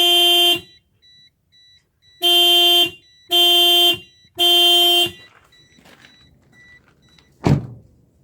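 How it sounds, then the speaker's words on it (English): A car horn sounds four times out in remote New Zealand bush: one short beep, a pause, then three beeps in quick succession. Each is loud and steady, and a sharp knock or thud follows afterwards. "I'll just, you know, beep the horn again and guide him"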